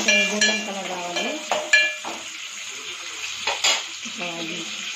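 Onions frying in a pan for ulavacharu curry, a steady close sizzle with scraping stirs and a few clinks of utensil against the pan, running throughout under faint background sound.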